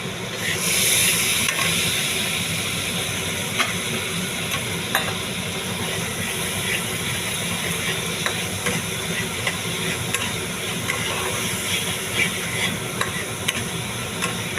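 Salt, turmeric, chilli powder and green chillies are stirred in a hot pan for a thin fish curry, giving a continuous hissing sizzle. A few light scrapes of the spoon sound close by, with no voices.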